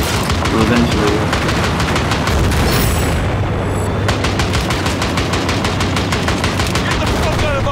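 Heavy automatic gunfire in the shooter game Battlefield 4 pounds out in rapid repeated bursts, loud and continuous, with booming impacts underneath.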